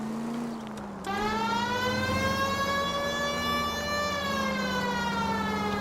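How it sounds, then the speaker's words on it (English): A police car siren in an L.A. Noire video game chase holds a loud, steady wail with a slight rise and fall, close and unbroken over the engine rumble. "I'm getting chased with the sirens on."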